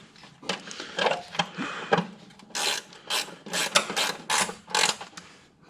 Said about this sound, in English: It's 10 mil, ratcheting 10mm.